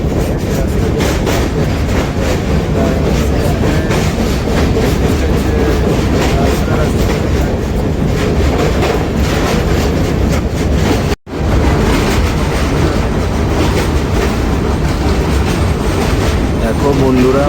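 The 12840 Chennai Mail rumbles along from on board, a loud continuous roar of wheels and carriage with clickety-clack rhythm, briefly cutting out before resuming, near Cuttack by the Mahanadi river.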